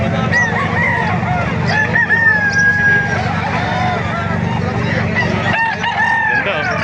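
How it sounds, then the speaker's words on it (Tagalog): Several roosters crow over a busy crowd of clucking chickens at the Calumpit poultry market in the Philippines, with people talking in the background throughout. "Napakaraming manok, dumagsa ang manok dito sa Kalumpit."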